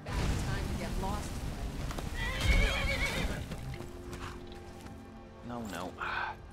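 A horse whinnies loudly amid Skyrim game sounds and hoofbeats, with a second shorter neigh near the end; voices speak over parts of it.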